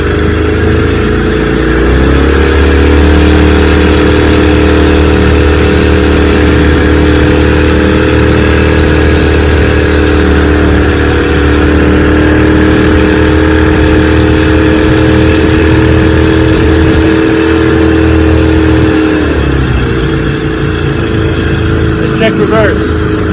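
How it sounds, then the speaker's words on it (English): A 1968 18 HP Evinrude outboard motor runs steadily on a boat, its loud, continuous drone holding an even pitch throughout, with a slight drop and recovery near the end as it keeps running. "we're out here running Michael's gear case, running good on my 18"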